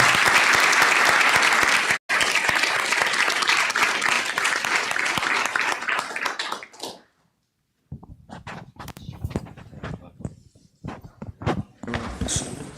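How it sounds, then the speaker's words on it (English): Seminar audience claps for a guest named Guillermo, a loud sustained round that fades out after several seconds, followed by a short gap, then scattered thumps, shuffling footsteps and a few stray claps as the room breaks up. "So let's give Guillermo a round of applause."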